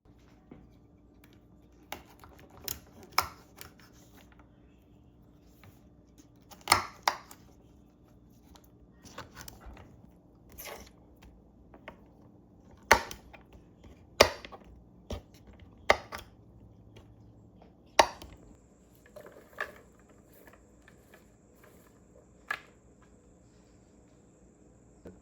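Freshly harvested garlic scapes are cut up with a knife on a board. Sparse, sharp chopping taps arrive in irregular bursts over a quiet background with a faint insect-like hum, close and without speech.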